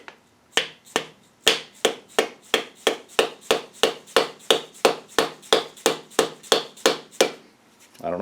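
Dead blow hammer striking a part onto a 1965 Ford Mustang crankshaft with a keyway during an engine rebuild: about twenty sharp, evenly spaced, close blows in a steady rhythm.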